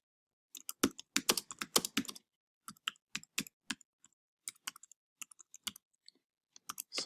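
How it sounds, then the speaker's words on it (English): Slow typing on a computer keyboard, with scattered crisp key clicks and short bursts separated by pauses, close and quiet. "Sorry for the slow typing."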